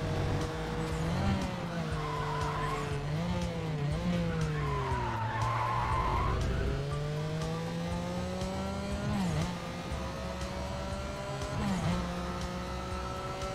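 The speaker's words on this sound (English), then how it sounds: "The buzzy boxer engine. With some crazy turbo sounds too." Buzzy boxer engine with turbo whistles from a car in Need for Speed ProStreet, a steady loud drone rising and falling through gear changes, with tyre skids along the way.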